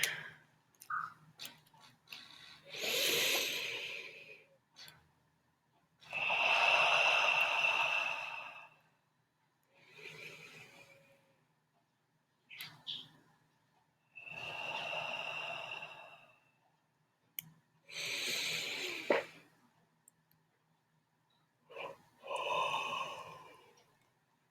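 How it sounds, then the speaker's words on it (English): Slow, deep breaths drawn in through the nose and let out through the mouth, about six long breathy cycles separated by short pauses, close and clear. "We're going in through our nose and out through our mouth."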